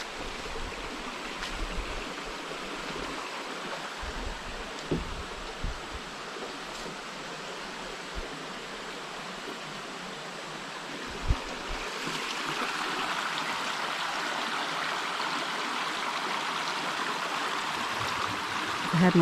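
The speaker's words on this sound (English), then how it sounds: "Yeah, the creek looks nice to swim in." Creek water flows steadily nearby with a constant rushing, burbling wash, growing slightly louder toward the end, with occasional faint bumps of handling noise.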